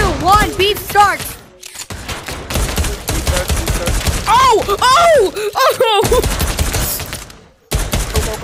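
Rapid bursts of video game gunfire, sharp repeated shots crackling in dense volleys, interleaved with excited shouting voices and brief pauses.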